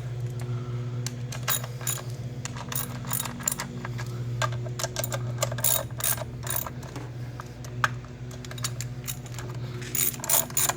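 Ratchet wrench tightening valve cover bolts on a 2004–2008 Suzuki Forenza engine, a steady run of rapid metallic clicking bursts over a low engine-bay hum, close and fairly loud without talk.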